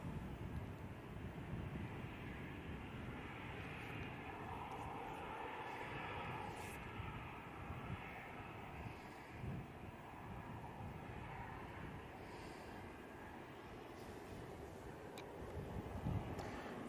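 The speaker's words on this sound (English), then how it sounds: "EasyJet coming on, and EasyJet about to touch down." An EasyJet airliner from Paris on final approach at Manchester Airport, a faint, distant, steady engine roar with wind noise, continuous throughout with no talk.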